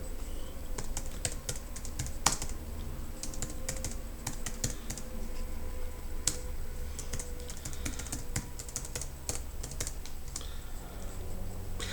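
A computer keyboard clatters under steady typing as a terminal command is entered, with a quick run of close, crisp keystrokes and a few louder taps over about twelve seconds.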